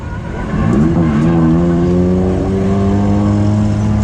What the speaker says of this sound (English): my motor just blew up